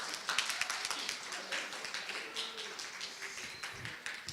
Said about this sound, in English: Can we get a round of applause for Jim's emceeing?